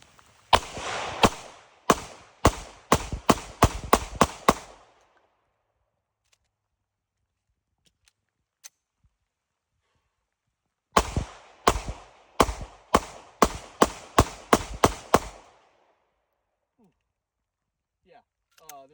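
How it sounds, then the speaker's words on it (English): Two strings of Sig P365 compact pistol shots, each a rapid burst of about nine to ten sharp, loud reports separated by a long pause, with no talking over them. "Let's go ahead and get our first shots."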